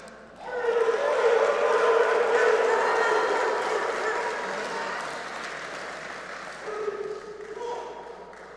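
An audience at the 2025 Order of the Engineer ceremony applauds chemical and electrical engineering graduates, clapping swelling in after a quiet start, holding strong, then tapering off with a brief late surge and scattered voices mixed in.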